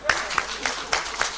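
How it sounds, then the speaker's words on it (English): Audience applause for the ITC at a results-release ceremony: a crowd claps in a brisk, fairly loud patter with a few sharper individual claps standing out. "Clap for the ITC."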